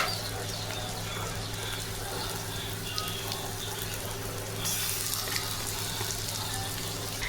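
Ginger garlic paste sizzles steadily in hot oil in a frying pan, a continuous close frying hiss that brightens and grows slightly louder partway through, with no talking.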